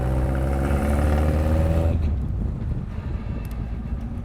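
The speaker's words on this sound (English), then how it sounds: "For a very small motor, it sounds very nice." A small car engine with straight-cut gears and no resonator or catalytic converter revs with a loud harmonic drone from inside the car, then drops off into a low rumble and wind noise.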